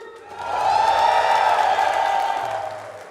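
A large crowd at an esports tournament, the Riyadh Masters 2023 playoffs in Dota 2, cheers and whoops in one sustained roar that swells and then eases off, loud and filling the arena.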